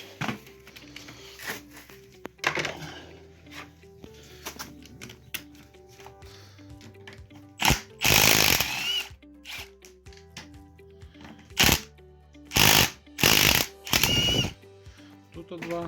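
A wrench undoes the nuts holding a turbocharger on an engine, with scattered metallic clicks and several loud ratcheting bursts, close by, mixed with some talk.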